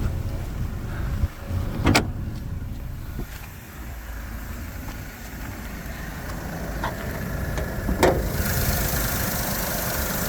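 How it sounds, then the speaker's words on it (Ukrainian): A 2014 Dacia Sandero Stepway's 1-litre engine idles smoothly and steadily at close range, with a couple of brief clicks or knocks over the low hum. "чисто, м'яко працює двигун"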